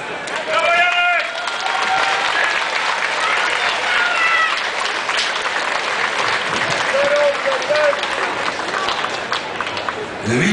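Festival crowd applauding at an outdoor city celebration, dense sustained clapping throughout with cheers and whistles mixed in, steady and loud.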